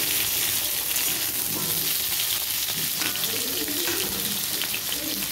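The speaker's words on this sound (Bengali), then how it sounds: "এই যে লাল আলুগুলো দিয়ে দিলাম, এর সাথে ভেজে নিই ভালো করে" Red potatoes and papaya fry together in a pan with a steady, loud, close sizzle that holds evenly throughout, with no voices.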